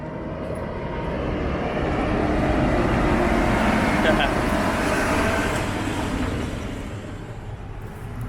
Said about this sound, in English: there's a big tractor coming